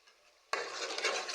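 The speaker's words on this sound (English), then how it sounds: "It's already frying." Jollof rice base loaded with crayfish frying in a pot, breaking from near silence into a steady close sizzle with stirring scrapes that continue to the end.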